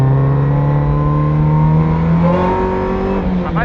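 A Toyota AE86 drift car revs on a track lap, its engine note holding steady and then shifting pitch as the car accelerates and changes gear, loud and close with no talking.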